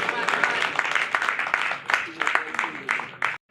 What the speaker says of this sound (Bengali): করতালি সবাই জোরে করতালি